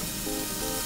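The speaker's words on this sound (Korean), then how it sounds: "기름 다시 조금만 두르고 도라지를 볶을 거예요" Bellflower root (doraji) stir-frying in a thin film of oil in a pan, giving a steady close sizzle and hiss for under a second with no talking.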